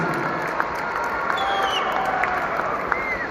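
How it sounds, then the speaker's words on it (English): A crowd at the 2020 Allentown Indoor Race, an indoor arena event, applauds and cheers for the race drivers in a dense, steady roar of clapping and voices, with a few sharp claps and whistles standing out. "Give them a round of applause and a cheer for these drivers here for your entertainment."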